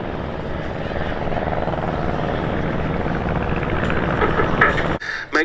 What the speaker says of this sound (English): the two very distinctive Fokker DR1s, the Dreideckers, the triplanes